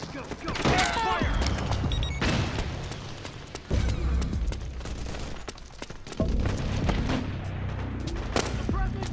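Suppressing gunfire in Metal Gear Solid 4: Guns of the Patriots, bursts of rifle shots and booms arriving in clusters across a battlefield, with soldiers' voices shouting over the firing.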